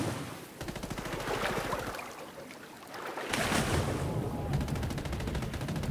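Rapid gunfire in Ghost Recon Wildlands, a fast even string of shots heard through a muffled wash like water, steady and moderately loud for the whole stretch.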